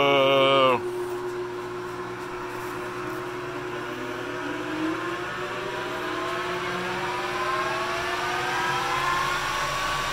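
A Leblond Dual Drive lathe spins up to 1800 RPM with a steady motor hum and a whining tone that rises in pitch as it accelerates, following a brief voice at the start.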